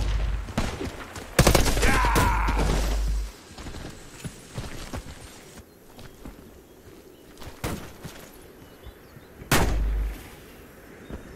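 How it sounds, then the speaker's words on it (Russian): A grenade blast in the shooter game Warface: a loud burst with a rumbling tail, followed by a couple of sharper gunfire-like cracks further on, with no talk over it. "Кидаю гранату!"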